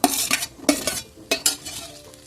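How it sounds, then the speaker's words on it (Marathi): Tomatoes with garlic, ginger and cashews are stirred and sautéed in oil in a pan. About four loud scraping strokes come in uneven bursts, with softer frying noise between them. "टोमॅटो नरम होतपर्यंत परतून घ्यायचं"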